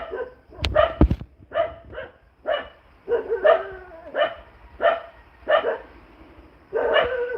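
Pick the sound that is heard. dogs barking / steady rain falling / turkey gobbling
dogs barking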